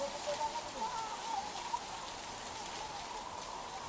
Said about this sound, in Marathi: पुण्यामध्ये देखील जोरदार पाऊस मध्यरात्रीपासून होतोय